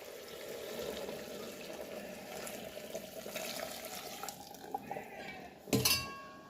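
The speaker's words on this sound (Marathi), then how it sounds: "दोन ग्लास पाणी गरम करायला घेत ठेवलं होतं हे आता मी ह्यात ओतून घेते" Hot water pours steadily into a metal pot, with a soft running hiss, then a sharp metallic clank near the end.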